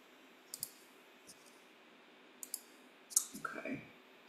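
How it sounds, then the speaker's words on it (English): A computer mouse clicks during an online working group meeting: a few sharp, faint clicks spaced apart over quiet room tone, with a brief muffled sound near the end. "Oops, I keep clicking on this stupid thing"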